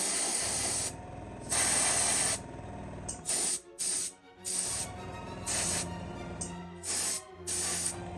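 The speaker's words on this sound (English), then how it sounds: "Should show how good the airbrush is with things like this as well" Airbrush hissing as it sprays paint onto a detailed model tank engine, a steady airy spray in several bursts of varying length with brief pauses between, close and fairly loud.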